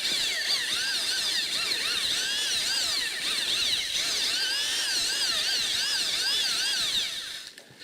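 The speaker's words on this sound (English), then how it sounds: "I'm just going to give it another little mix" A drill fitted with a paddle mixes tile mortar with a whining motor that rises and falls in repeated sweeps as the paddle churns. It runs close and steady, then winds down at the end, with no talking.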